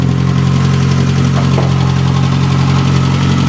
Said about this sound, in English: I hear a little bit of tapping.